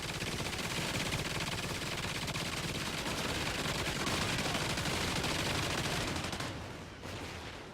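An automated sentry gun in Call of Duty Ghosts Extinction sprays a long, continuous stream of rapid gunfire, loud and dense for several seconds before tapering off slightly at the end.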